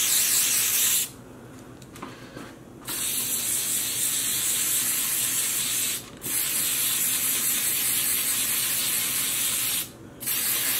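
Spray bottle misting dye onto a knitted sock blank, long steady hissing bursts broken by short pauses, close and fairly loud with no talking.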